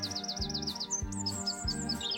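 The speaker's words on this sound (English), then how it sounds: "All the birds are singing." Birds sing in a cartoon village morning scene, repeated bright chirping phrases over a steady musical bed, lively and close.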